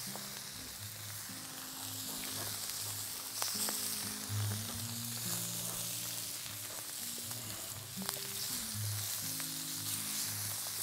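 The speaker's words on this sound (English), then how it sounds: "a fantastic sizzle going down now." Scallops, chorizo, garlic and chilli sizzling on a Vulcanus grill make a continuous bright hiss and crackle, with occasional sharper pops and a low background hum, heard alone without talk.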